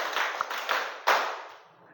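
Students in a classroom clap together on a count, producing three crisp claps spaced roughly half a second apart, the last one strongest, with the room echo fading after it.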